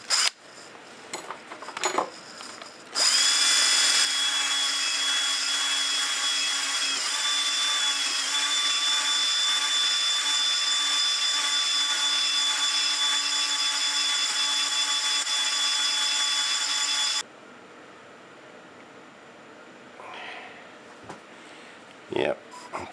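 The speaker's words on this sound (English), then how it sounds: "Gonna get in there and start honing it now." Cylinder bore of a miniature petrol engine being honed with a power tool, a steady high-pitched whirring drone that runs for about fourteen seconds at close range before cutting off, with quieter handling noises around it.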